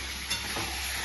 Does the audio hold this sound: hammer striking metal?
no